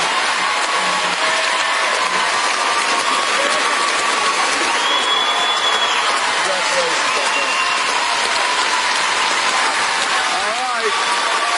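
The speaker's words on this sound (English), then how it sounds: "I think everyone here should stand up and applaud you." A studio audience at a live ballroom dance competition show claps and cheers, dense sustained applause rising like a wash of rain throughout, with a host's voice speaking over it.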